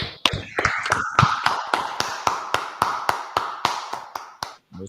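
A small group at a scripture class claps in an irregular rhythm, sharp, close slaps that gradually thin out and fade to a stop.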